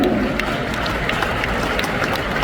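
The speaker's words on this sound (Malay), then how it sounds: "Tepukan untuk upline dulu." Audience at a large Amway recognition rally clapping, a dense continuous wash of applause from a big crowd, loud and steady throughout.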